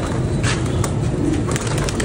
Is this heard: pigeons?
yes